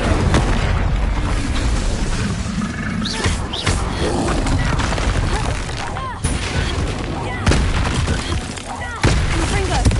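Explosive Bombarda and Confringo spell blasts from the video game Hogwarts Legacy, a dense run of booming impacts and crackling bursts over constant in-game noise, with voices calling out spells throughout.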